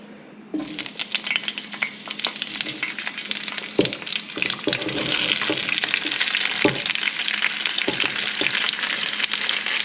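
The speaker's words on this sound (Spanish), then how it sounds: "Y aquí en la estufa tengo mi cazuela con aceite ya calentándose. Aquí vamos a echar todo junto." Vegetables for green pozole fry in hot oil in a clay cazuela, a loud, steady close-up sizzle that starts abruptly and keeps going, broken by a few sharp knocks and clatters of stirring.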